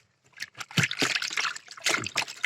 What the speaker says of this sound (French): je vais prendre une chiffonnette là que je vais passer dans l'eau